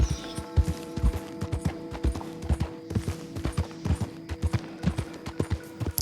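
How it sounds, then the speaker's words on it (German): Horse hooves clip-clop in steady, overlapping rhythm throughout, with an occasional snort, as a horse trots along in the Western video game Red Dead Redemption 2, over low ambient game noise. "Das Pferd läuft einfach so, ganz alleine."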